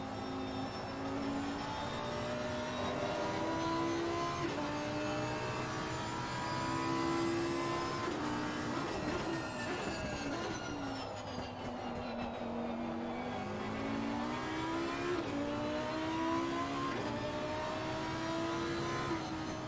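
GT3 race cars lapping Snetterton in a racing video game, including a Lamborghini, a Mercedes-AMG and an Aston Martin, their engines droning steadily with rising and falling revs as several cars pass in a continuous pack.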